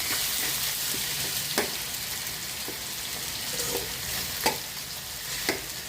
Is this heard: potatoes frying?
yes